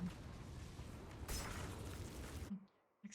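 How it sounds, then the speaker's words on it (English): Explosions in the Diablo IV video game, a dense rumbling burst of blasts with a sharper crackling surge midway, cutting off abruptly into near silence with a faint thud after. "Explosions."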